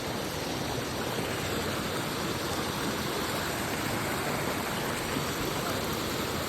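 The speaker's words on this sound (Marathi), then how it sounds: "आलेलो आम्ही इथं करंबेली बघू शकता धबधबा" Karambeli waterfall roaring steadily, a constant broadband rush of falling water that stays loud and unbroken throughout with no voices.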